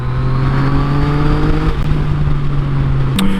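A Yamaha MT-09 motorcycle engine runs loud and close, with a steady droning tone that holds and then shifts pitch briefly near the end.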